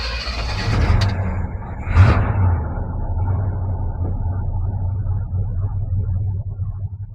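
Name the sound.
1970 Chevrolet CST10 pickup engine cranked and revving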